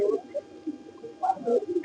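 Silver pigeons coo softly in short, low throaty bursts, a few close calls with a brief pause between them.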